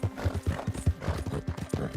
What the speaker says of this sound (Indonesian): Kudaku kan juga capek nih.